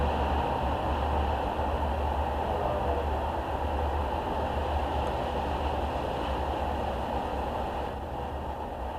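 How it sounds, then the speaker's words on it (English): A train rolls past near a bamboo grove, giving a steady, loud rumble with a continuous low roar and a metallic hiss above it that hold for the whole stretch and ease off slightly at the end. "The train goes by here, it really messes up my sound."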